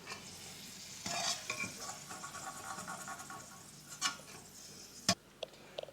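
Pirandai (adamant creeper) sautéing in oil in a pan, a soft steady sizzle broken by several sharp scraping stirs and clinks of the spatula, close and fairly quiet with no talking.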